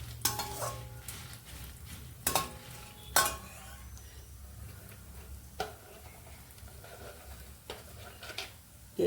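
Fenugreek and chillies roast in a pan over a low flame, with a soft steady sizzle under scattered sharp scrapes and taps of a spoon stirring against the pan.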